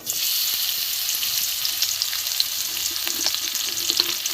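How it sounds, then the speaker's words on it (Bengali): Bitter gourd rubbed with salt and turmeric frying in hot oil in a wok, a steady close crackling sizzle with scattered pops and a few light stirring taps. "এখানে কড়াইয়ে তেল গরম হয়ে গেছে, আমি উচ্ছেটাকে ভেজে নেব।"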